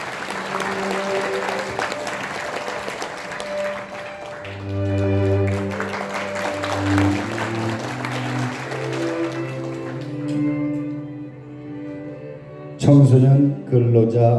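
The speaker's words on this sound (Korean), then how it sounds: "역시 박수로 맞이하겠습니다" Audience applause greeting a reader at a book-launch event marking Park Chung-hee's 100th birth anniversary, steady clapping under sustained music tones, then a louder burst near the end.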